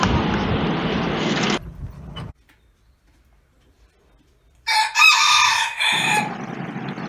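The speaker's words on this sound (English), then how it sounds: "Oh, here are the chickens." Chickens on a farm, roosters and hens, crow and cluck loudly and close by in two bursts, separated by a short stretch of near silence.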